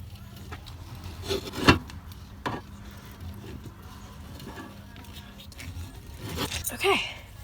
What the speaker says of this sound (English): You just turn the handle and it drills.